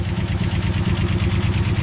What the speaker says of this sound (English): Got a little bit of valve noise.